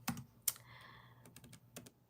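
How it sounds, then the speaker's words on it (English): Quiet typing on a computer keyboard indoors, a few separate key clicks and short bursts spaced irregularly, with faint room hum between strokes. "after I finish typing up these timestamps for the"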